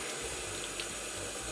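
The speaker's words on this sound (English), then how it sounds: "One of the ways to accelerate it is to run it under cold water." Cold tap water running over a pressure cooker to cool it down, a steady splashing hiss of water pouring onto the metal pot at a sink, close and continuous with no talk.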